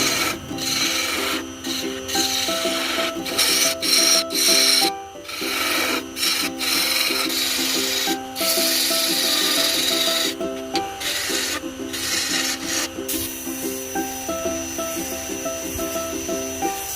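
A wooden flower being thinned on a woodturning lathe, a steady rubbing, rasping scrape of the tool against spinning wood that runs continuously with brief dips and breaks, loud and close, with a faint musical background throughout.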